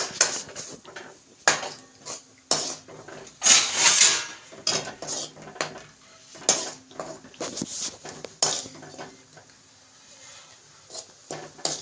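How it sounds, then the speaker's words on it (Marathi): A spatula scrapes and knocks around a pan as peanut chutney with coriander is stirred, giving irregular close clatters and rubbing strokes with brief pauses between them. "आता आपण हलवून घेऊ."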